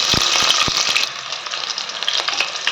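Garlic and onion sizzle in hot oil as the tempering for a vegetable sambar, a loud, steady frying hiss with a few stirring knocks near the start.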